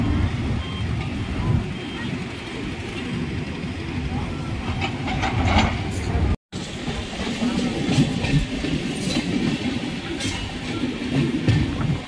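A train rumbles and clatters continuously along the rails, arriving in Bangalore, loud and close, heard from the end of the train while a person talks over the running noise.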